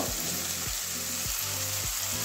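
Paneer filling cooking with spices in a pan, a soft continuous frying hiss with a few dull scrapes of stirring at regular intervals; quiet, no talk.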